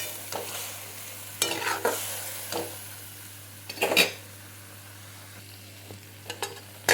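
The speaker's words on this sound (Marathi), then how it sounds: "मस्त असं दुधामध्ये थोडं 2-3 मिनिट शिजवून घ्यायचे आहे शेवया" Vermicelli simmering in milk in a pan is stirred with a utensil, giving a few distinct scraping and clinking strokes over a low steady background hum, with quiet gaps between them.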